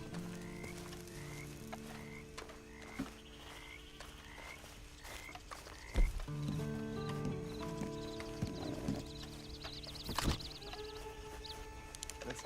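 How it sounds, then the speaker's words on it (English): A horse in the Red Dead Online game clip-clops at a slow, even walk, with loud croaking frogs and other night ambience around it and a couple of louder thumps. "Then you better get on this horse."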